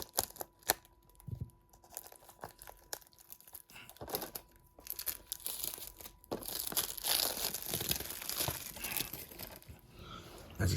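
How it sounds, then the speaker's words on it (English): Cellophane wrap being peeled off a Star Wars Episode II: Attack of the Clones Blu-ray case, with close crinkling, tearing and rustling, sparse at first and then building into a steady crackle. "And then we'll take off the cellophane."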